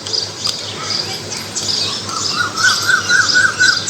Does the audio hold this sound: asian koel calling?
yes